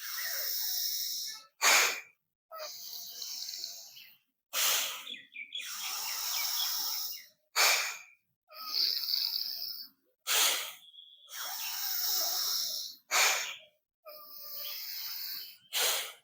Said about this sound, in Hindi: फुल सांस भरना है, छोड़ना है।